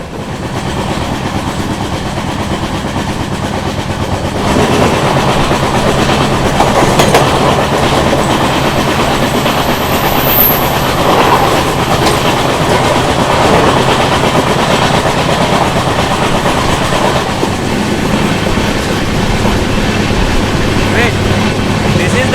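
Adilabad–Tirupati Krishna Express rolling past during a rainy November journey, a loud continuous rumble with steady clickety-clack of wheels over rail joints, swelling after the first few seconds and holding strong throughout.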